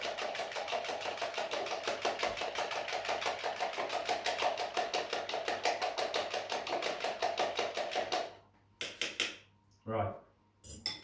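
A utensil beats mashed banana and eggs in a bowl with rapid, rhythmic clinking, steady and close for several seconds before it breaks into a few separate taps and a short pause.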